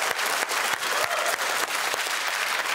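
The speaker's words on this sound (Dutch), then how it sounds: "Dames en heren, maak een zeer groot applaus voor onze kennismakers." An audience applauds the speakers at a Dutch-language public talk on the future of democracy, steady dense clapping with sharp individual claps, moderately loud and even throughout.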